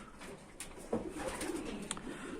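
Soft, low cooing of racing pigeons in an aviary rises a few times over a quiet, hissy background, with a couple of brief flutters and knocks.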